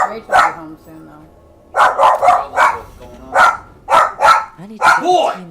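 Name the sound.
dog barking in a video game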